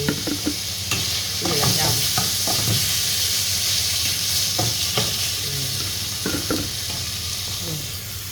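Pork stir-fried in a hot pan crackles with a loud, continuous sizzle, broken by repeated scraping clatters of a spatula stirring the meat, and nobody speaks.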